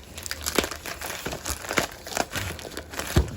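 Plastic packaging crinkles and tears as a Tales from the Hood CD bought through Mercari is opened, with short crackling, rustling bursts up close and fairly soft.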